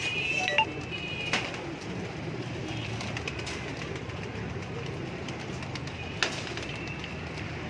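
Pigeons from a large breeding set on a Lahore rooftop coo in a low, steady murmur under ambient noise, with a few brief sharper sounds scattered through.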